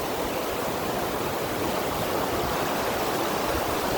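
Cold snowmelt stream rushing down from the mountains, a steady, dense broadband wash of running water, close and continuous with no voices.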